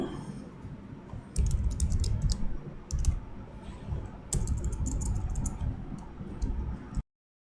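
Steady, fairly close computer keyboard typing while writing code, in bursts of rapid clicky keystrokes with short pauses, running alone with no talk.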